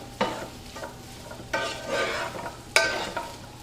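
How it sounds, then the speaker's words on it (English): Chicken sizzles in a hot frying pan for a stir fry with a steady crackle, broken by a few louder scraping stirs at irregular moments. "So my chicken is starting to sizzle."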